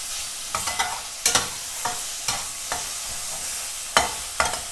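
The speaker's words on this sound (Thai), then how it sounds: "เราคั่วเขาให้สุกให้เหลืองนะคะ" Pork belly sizzles steadily in its own fat in a hot wok over medium heat while a utensil scrapes and stirs in sharp, irregular strokes every half second or so.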